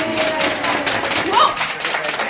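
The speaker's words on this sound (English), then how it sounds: "Please give yourselves a round of applause." A group of junior rangers at Manzanar National Historic Site gives a round of applause, steady dense clapping close by with a few voices mixed in.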